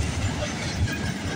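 CN M383 freight train rolling through Georgetown GO Station, a dense rumble with rhythmic wheel clatter and faint hiss, close and steady throughout the short stretch.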